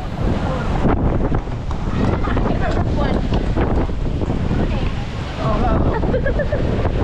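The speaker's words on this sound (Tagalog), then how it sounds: "Napakalakas ng hangin guys." Strong wind buffets the microphone in loud, continuous rumbling gusts, with people talking faintly underneath.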